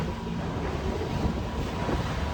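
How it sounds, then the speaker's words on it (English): A catamaran sails upwind into about 10 knots of wind, hull pounding through waves; steady loud broadband rush of wind and water fills the whole stretch with no talking. "we're making good speed against about 10 knots of wind"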